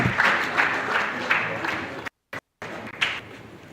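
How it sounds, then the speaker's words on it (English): Conference audience applauding a speaker called to the stage at a tech event, a steady wash of clapping that breaks off briefly and then trails away. "A round of applause for him, please."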